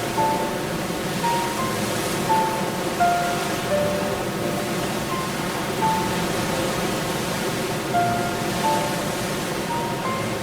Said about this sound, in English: Myriad waterfalls rejuvenate every inch of the forest as they steadily flow downward.